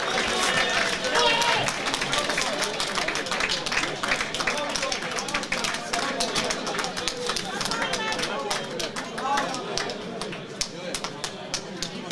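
Crowd at an amateur boxing home show, a steady wash of chatter, claps and movement filling the hall throughout, close and continuous.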